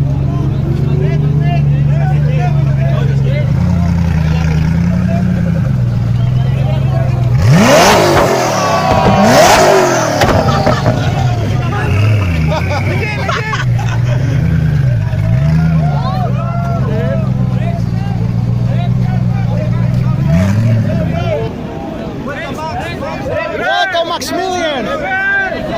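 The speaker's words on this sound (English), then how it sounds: "Some revs." Supercars gathered in Athens for the Gumball 3000 rally rev their engines loudly, with sharp rising and falling engine sweeps over a steady idling drone while a crowd murmurs around them.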